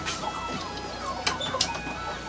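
Chickens cluck in a farm poultry pen beside a meadow shared with geese, with several soft, irregular clucks and a couple of sharper squawks over a low steady background hum, fairly close and quiet.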